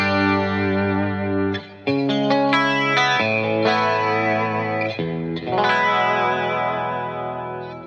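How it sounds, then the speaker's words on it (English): An electric guitar with its dry signal blended into a chorus effect plays a run of strummed and picked notes and chords, full and warbling with a touch of distortion and echo, loud and alone. "right now that's my dry signal together with the chorus."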